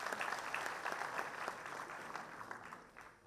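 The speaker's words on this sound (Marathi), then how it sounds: "एकदा जोरदार टाळ्या त्यांच्यासाठी वाजवा." An audience at a spiritual discourse gathering applauds, a soft, fairly distant wash of steady clapping that gradually tapers off.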